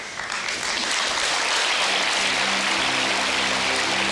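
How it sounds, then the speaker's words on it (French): A television studio audience applauds, a dense, even wash of clapping that stays loud and steady throughout with a faint hum underneath and no speech. "vous avez certainement raison d'applaudir"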